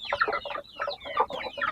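Hens on a farm cluck in quick, close bursts, several soft calls overlapping in a choppy rhythm with no talking.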